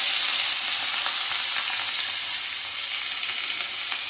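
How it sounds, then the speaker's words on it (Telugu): Onion and green chilli pieces frying in hot oil for a potato and brinjal curry, a loud continuous close-up sizzle that crackles evenly throughout with no speech. "ఆయిల్ హీట్ అయిందండి. ఉల్లిపాయ ముక్కలు పచ్చిమిరపకాయలు ముక్కలు వేసుకుంటాను."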